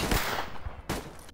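Gunfire in a STALKER-like survival first-person shooter game: loud, close bursts of shots, a rapid cluster at the start and another sharp burst near the end, with no talk over them.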